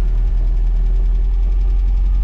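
A 1970 MGB GT engine running just after starting, a close, loud, steady low idle with a pulsing rhythm that fills the whole short stretch, no voices.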